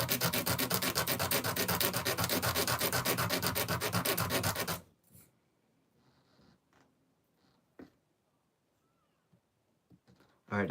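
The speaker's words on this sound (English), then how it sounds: "So get the sandpaper here." Sandpaper rubbed by hand in steady rapid strokes for about five seconds, loud and close. Faint scattered handling noises follow in near quiet.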